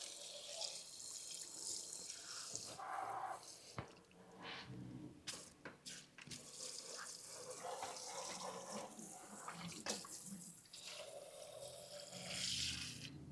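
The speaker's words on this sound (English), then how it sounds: "We get to use our wash down hose for the first time here" A wash down hose sprays water inside a WAZER Pro waterjet cutter, a steady hiss of spray that shifts in pitch and intensity, broken by a few sharp knocks and splashes.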